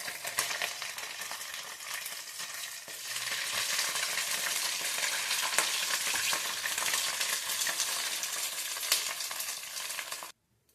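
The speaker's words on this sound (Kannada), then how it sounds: "ಇನ್ನು ಉಳಿದಿರೋದೆಲ್ಲ ಹಿಂಗೆ ಫ್ರೈ ಮಾಡ್ತೀನಿ" Leftover idli pieces deep-frying in hot oil for idli manchurian, a dense, loud, continuous sizzle and crackle that runs steadily until it cuts off abruptly near the end, with no talking.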